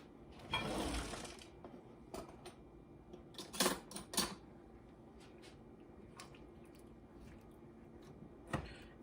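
A spoon stirs a beef tenderloin filet stew with carrots in a pot, with soft scraping, clinking and wet squishing in irregular bursts, some close and sharp, over a faint background hum.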